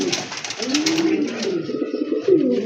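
A pair of deep red Rajgolla pigeons coos in repeated low, throaty phrases close by, one call swelling louder near the end.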